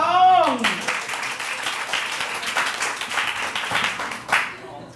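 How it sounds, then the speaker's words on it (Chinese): Audience applause fills a Taipei talk-event hall as a young speaker is welcomed to the stage, a dense, sustained clapping from a sizable crowd lasting several seconds before tapering off. "我们就最热烈掌声欢迎季宏来分享"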